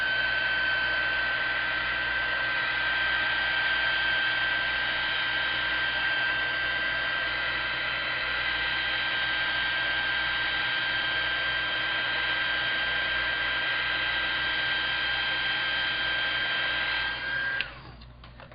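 Electric heat tool blowing steadily on paint on an artist trading card, a constant loud whirring hiss with a steady whine that runs for many seconds, then cuts off abruptly near the end.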